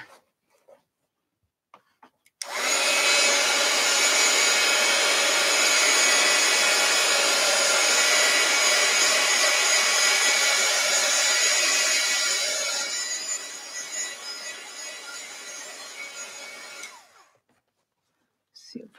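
A hair dryer blows loud and steady at close range to dry a layer of paint on a crazy-quilt art journal cover, running alone for about fifteen seconds before tapering off and cutting out.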